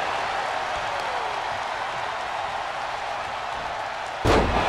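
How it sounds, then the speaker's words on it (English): Wrestling crowd cheering for a wrestler, a steady roar of many voices in a large arena, ending with a sudden loud thud. "The crowd is cheering for Ollie to take this thing."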